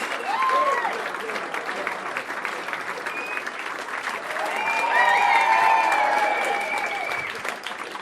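A comedy club audience applauds and cheers loudly, with whoops and shouts rising over the clapping, swelling midway before easing off.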